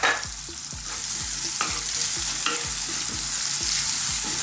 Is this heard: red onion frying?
yes